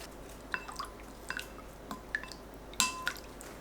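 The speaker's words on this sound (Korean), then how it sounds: "쌀뜨물 200ml 넣고 섞어주세요." Rice water is stirred into doenjang sauce with garlic, ginger syrup, mirin and oligosaccharide syrup, giving faint, sparse liquid drips and light clinks against a quiet background.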